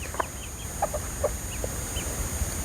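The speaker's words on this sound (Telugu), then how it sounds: "ఇవాళ మీకు మా కోళ్ళని చూపెడతా చూడండి" A few short, soft clucks from a rooster, hen and chicks come in scattered bursts against a steady background hiss, fairly close but not loud.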